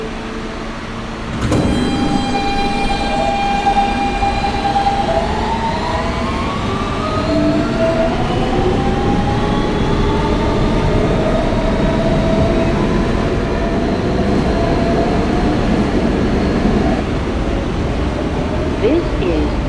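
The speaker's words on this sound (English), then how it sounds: "This is a Manhattan-bound R local train." Inside a Kawasaki R160B subway car on the R local line, where a steady loud rumble of wheels on track carries throughout and a rising electric motor whine builds as the train accelerates.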